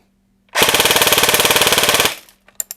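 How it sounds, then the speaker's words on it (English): A Classic Army CA5A2 MP5 airsoft gun on a 9.6-volt battery fires one rapid, loud burst of about a second and a half, followed by a few faint clicks. "I'm gonna do semi-auto 10 shots to get an average."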